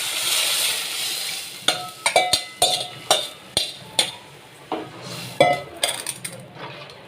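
A mixture is poured into a cooking pot of vendaikai puli kulambu, an okra tamarind curry. A soft sizzle comes first, then a series of sharp metal utensil clinks and taps against the pot, close and fairly loud.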